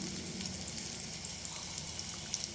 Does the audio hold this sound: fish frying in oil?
yes